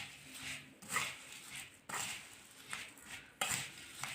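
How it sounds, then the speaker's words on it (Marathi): Oli bhel, a wet puffed-rice snack with coriander, gets mixed in a bowl, producing soft repeated scraping and rustling strokes with a few sharper spoon clinks, close but quiet. "तर आता आपण ही भेळ मिक्स करूया।"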